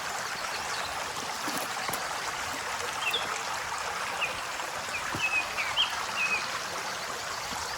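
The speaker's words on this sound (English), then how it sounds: "The river's running a little bit." A river runs steadily with a broad, constant rush of flowing water, fairly close and unbroken, while a few faint bird chirps surface briefly over it.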